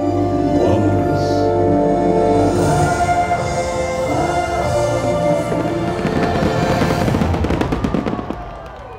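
Disneyland fireworks display, continuous booming bursts and crackling rolling over a music soundtrack, loud and layered, with a heavy finale thinning out at the end.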